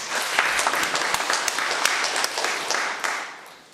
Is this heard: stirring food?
no